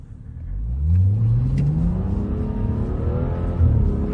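A BMW 335i with FBO modifications accelerates hard in a full pull, engine note climbing steadily and loud up close; tire squeal is not clearly separable beneath the engine.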